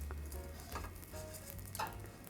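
Dried squid strips frying in a pan over high heat, giving a steady close crackling sizzle with light stirring scrapes throughout, no voices.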